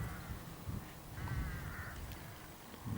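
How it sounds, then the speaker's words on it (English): Crows call from somewhere nearby outdoors in spring countryside near spruce trees, a few harsh caws rising over quiet rural background noise. "some crows making a bit of a noise not far from here over my left shoulder."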